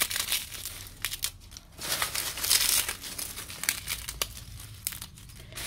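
A plastic bag of fermented potting soil is torn and handled up close, giving continuous crinkling and rustling of plastic with sharper ripping bursts and no talking.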